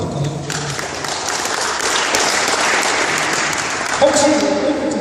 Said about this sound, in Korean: 크게 박수 한번 부탁드릴까요?